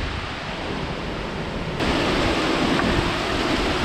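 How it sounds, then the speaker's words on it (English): Storm winds and rain during a nearby tornado outbreak, heard as a steady broadband roar of wind and falling rain that grows louder partway through, with no voices. "So it should just be these winds and rain."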